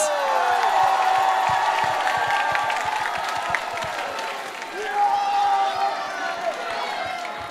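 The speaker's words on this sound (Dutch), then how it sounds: "Tegelen, geef ze een goed applaus." A crowd in Tegelen applauds and cheers at the TVK 2020 finale. Steady clapping and whoops fill the whole stretch, with an announcer's voice carrying over the top.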